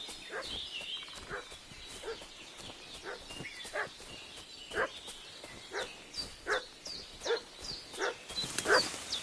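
A dog barks and fusses repeatedly inside a video game, sharp yelps and whimpering calls recurring in an uneven rhythm over a busy ambient background, growing louder toward the end.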